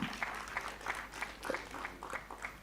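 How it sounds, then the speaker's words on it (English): Faint, distant applause from an audience at a Nairobi regional education dialogue, a steady patter of many hands clapping in a loose rhythm for a few seconds. "Let's give our partners a better clap."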